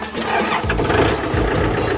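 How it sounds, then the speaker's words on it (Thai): A used 2012 Kubota L4708DT tractor with a 47-horsepower four-cylinder diesel engine cranks briefly, then catches and settles into a loud, steady, rumbling idle close by. "เดี๋ยวฟังเสียงเครื่องครับ"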